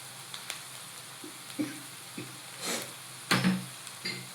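Chilli garlic egg fried rice is stirred and tossed in a pan over a soft, faint sizzle. Scattered scrapes and knocks of the utensil come at irregular intervals, and no voice is heard.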